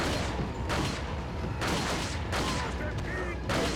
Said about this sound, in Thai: ผมว่าสแปมกระสุนให้มันตายก่อนเลยดีกว่าวะ